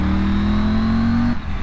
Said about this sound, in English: Oh, I love this bike. The engine's lovely, isn't it? It sounds really fruity.